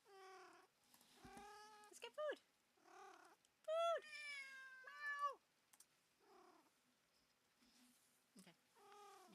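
A hungry cat meows repeatedly for food, a series of close, clear, drawn-out meows and short calls separated by brief pauses in a quiet room.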